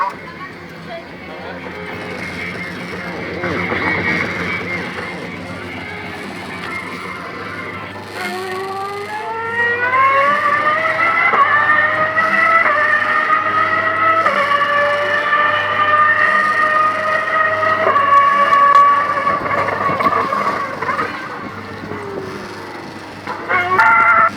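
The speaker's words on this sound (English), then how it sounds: "that was a twin race car kiddie ride by Ital Resina" A twin race car kiddie ride by Ital Resina runs at an amusement arcade, playing electronic engine and melody tones that rise and sweep for long stretches over a low steady hum, with talk between the sounds.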